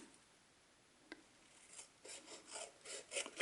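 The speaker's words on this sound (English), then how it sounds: "So I grab my snips." Quiet, close snipping and rubbing as snips cut through paper cardstock, a few soft scratchy strokes building into a quick rhythmic series of cuts.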